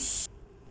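A pressure cooker holding a protein-rich home curry vents steam in a loud, sharp hiss that lasts a fraction of a second and then cuts off abruptly into near silence.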